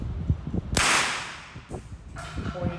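A single sharp gunshot from a Glock 17 9mm pistol at a shooting range, a loud close crack with a brief decaying tail after some low handling noise.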